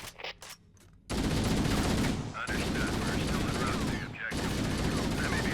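Loud, sustained automatic gunfire in Halo: Combat Evolved on The Silent Cartographer mission roars continuously after a brief quieter opening, pausing briefly twice before resuming.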